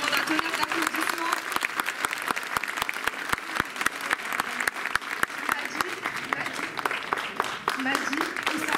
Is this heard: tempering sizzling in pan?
no